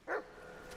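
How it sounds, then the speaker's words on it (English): A single short dog bark or yip, fairly close and moderately loud, followed by quiet background hum. "Where did this dog even come from?"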